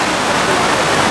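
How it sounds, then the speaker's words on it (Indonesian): Steady, loud rain pours down at an outdoor religious gathering in Taiwan, a dense continuous hiss with no pauses and no clear voices. "Hati-hati hujan."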